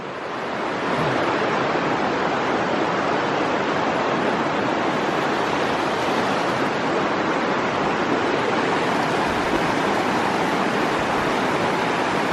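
A stream on the Appalachian Trail rushes beneath a wooden footbridge, producing a loud, steady, unbroken roar of water that fills the whole stretch without any speech.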